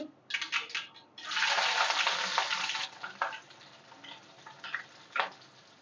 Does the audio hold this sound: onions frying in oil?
yes